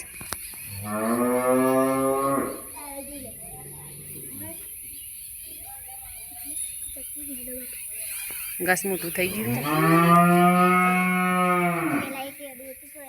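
Two long, loud cow moos sound close by, one near the start and one later, with a person speaking briefly between them.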